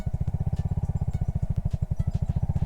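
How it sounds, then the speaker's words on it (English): Motorcycle engine pulling away from a stop as the clutch is let out and throttle applied, a steady loud low pulsing thump of firing strokes close by, with no voices. "So we'll let the clutch out and apply throttle at the same time."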